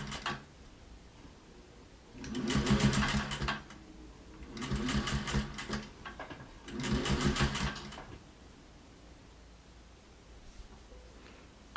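Sewing machine stitching a fleece dog coat, running in three bursts of rapid, even mechanical chatter a few seconds each, with quiet gaps between them and a close, moderately loud sound.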